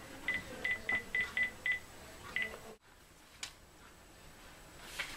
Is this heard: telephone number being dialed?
yes